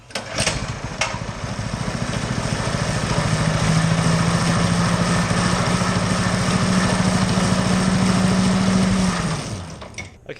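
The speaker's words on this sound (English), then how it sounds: "I'm going to go ahead and open the garage and start the engine," A small gas go-kart engine on a yard kart build, fitted with a new kill switch, starts up with a buzzing, lawn-mower-like drone that holds steady and loud for about nine seconds before cutting off, heard close up in a garage.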